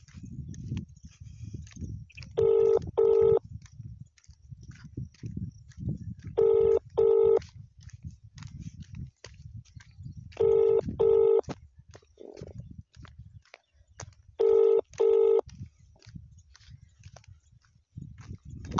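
An outgoing phone call rings back four times unanswered, each a pair of short electronic ring bursts spaced about four seconds apart over a faint rumbling background.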